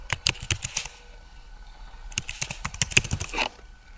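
Computer keyboard typing in two quick bursts of crisp, close clicks, separated by a short pause, with no talking.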